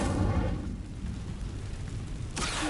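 An Incendio fire spell cast in Hogwarts Legacy: a heavy, roaring burst of flame that rumbles low and dense, fades slightly through the middle, then flares again with a bright hiss at the end, no talking.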